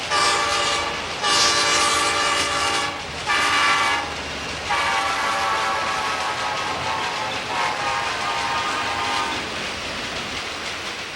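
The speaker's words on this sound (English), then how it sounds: "They blow their horn to warn you that they're coming." A passing train sounds its horn in several loud, sustained blasts separated by short gaps, over a continuous rumble of rail cars rolling along the track.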